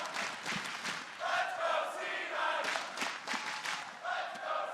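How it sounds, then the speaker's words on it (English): An esports arena crowd at the League of Legends World Championship quarterfinal cheers for Cloud9, a distant, reverberant roar of shouts and chanting voices that rises and falls in waves, fairly faint. "Crowd once again behind Cloud9 as they step onto the Rift"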